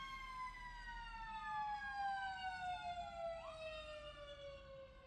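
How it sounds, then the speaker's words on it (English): An emergency vehicle siren wails alone, its tone sliding steadily downward with a sudden upward jump partway through, sounding fairly distant and quiet. "the sirens."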